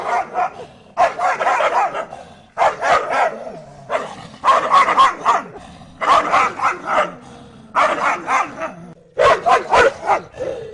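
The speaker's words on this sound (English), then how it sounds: "check out this real short video of some funny dog growling" Funny dog growling comes in a series of rough, voiced bursts with short pauses between them, loud and close, with no one talking.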